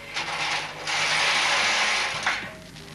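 A Bond knitting machine carriage being pushed across the needle bed to knit rows, giving a continuous close mechanical rattling and clicking sweep that swells in the middle and ends with a soft clack.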